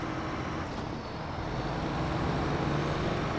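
A scout truck in SnowRunner drives with a steady, loud engine drone and road rumble that continues without a break for about three seconds, with no talk.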